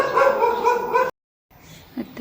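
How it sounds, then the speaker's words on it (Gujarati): A household dog gives a drawn-out, tonal bark-whine lasting about a second, close and fairly loud, followed by a brief silence and then a few fainter yelps. "કૂતરા તો ચાલુ રહે ભણવાના"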